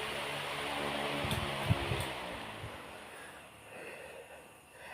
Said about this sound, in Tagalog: And ipapatay na natin yung fan.